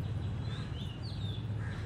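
Crows caw on a rooftop where pigeons feed, a few rough calls at moderate distance over a low rumbling background, with no voices.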